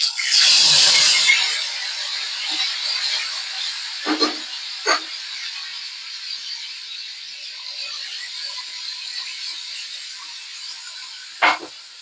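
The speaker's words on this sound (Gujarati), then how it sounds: "હવે કરી નાખીએ વઘાર." Mustard seeds and curry leaves hit hot oil for a vaghar tempering for sev tameta shaak, bursting into a loud, close sizzle that settles into a steady hiss with a few sharp pops and crackles.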